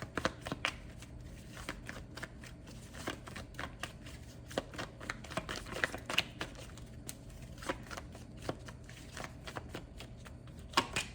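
Tarot cards being shuffled by hand, a close run of quick papery riffles and flicks repeating in irregular bursts, alone and fairly quiet.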